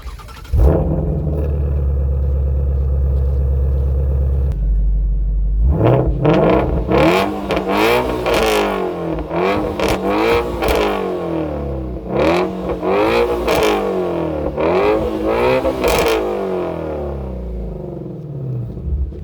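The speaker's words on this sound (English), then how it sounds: "The exhaust sounds unbelievable." A Ford Mustang Shelby GT350 V8 barks to life and revs repeatedly, deep exhaust rumble rising and falling in sharp throttle blips, loud and close.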